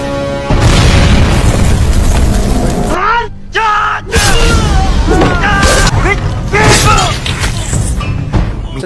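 Explosions in a film scene give heavy booming blasts and crashes, with loud shouting and yelling voices over and between them.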